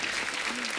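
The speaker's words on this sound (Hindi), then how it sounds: "एक बार इनकी फिटनेस के लिए जोरदार तालियां हो जाए यार" Brief, faint clapping from a studio audience at a comedy talk show, a soft wash of applause with a low voice sliding briefly underneath.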